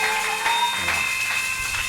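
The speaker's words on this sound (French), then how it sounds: "Applaudissons le Seigneur Jésus." A church congregation claps together during a Sunday service, a steady wash of applause lasting a couple of seconds with a faint musical tone underneath.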